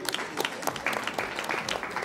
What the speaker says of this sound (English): A big round of applause, gentlemen.